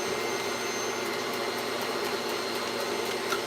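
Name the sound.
small vacuum cleaner running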